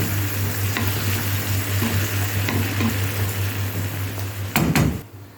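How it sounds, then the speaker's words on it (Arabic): Diced tomatoes with their juice hit frying garlic in a pan with a loud steady sizzle, stirred throughout, and end in a short burst of louder spattering before the sound drops away. "والطماطم مكعبات صغيره ننزل بميتها كده كلها"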